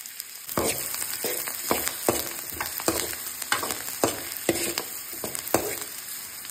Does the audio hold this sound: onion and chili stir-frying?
yes